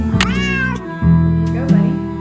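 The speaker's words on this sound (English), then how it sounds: "Let's get this cat happy with his little toy." A cat meows twice in the Nancy Drew video game Secret of the Old Clock while being given a cat toy, two clear, close, drawn-out meows with a short pause between them.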